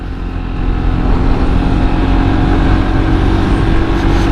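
A Honda PCX 160 scooter on a test ride gives a loud, steady engine drone with rushing wind and road noise, building slightly and holding close throughout.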